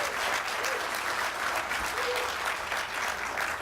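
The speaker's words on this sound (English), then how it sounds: "Now you can clap for Cynthia right now" An audience at a city's annual state-of-the-city event claps continuously and fairly loudly, with a dense steady patter of hands from start to finish.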